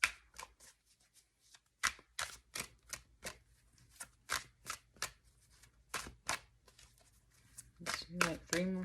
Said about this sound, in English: Let's do one more shuffle for you